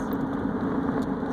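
A car engine runs steadily while the car is being driven, a constant low rumble heard from inside the cabin with no talk over it.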